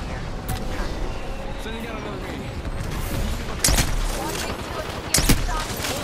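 Gunfire in the Apex Legends video game, bursts of rapid shots and a couple of louder booming hits within a busy mix of game effects and a voice talking.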